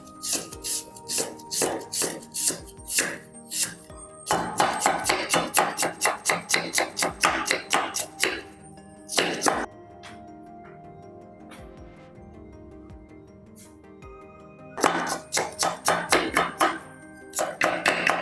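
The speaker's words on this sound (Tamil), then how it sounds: "உள்ளி அடிச்சுட்டு இருக்கேன்" Garlic being crushed in a kitchen: rapid, close, loud pounding strikes in dense bursts, pausing for several seconds before resuming.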